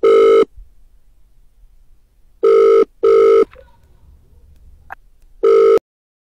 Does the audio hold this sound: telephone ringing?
yes